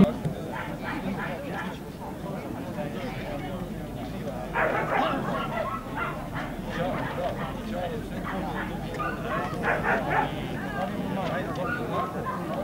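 Dogs bark now and then through a busy CACIB international dog show in Bogatić, Serbia, their calls mixed into steady crowd noise and a loud announcer voice that talks almost throughout.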